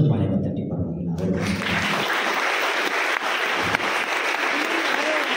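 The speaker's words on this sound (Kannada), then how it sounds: "ಈಗೆಲ್ಲರೂ ಚಪ್ಪಾಳೆಯನ್ನು ತಟ್ಟಿ" A church congregation at a midnight Christmas Mass in V. Nagenahalli, Bengaluru, bursts into sustained applause after a brief stretch of voices and low sound, the clapping holding loud and even to the end.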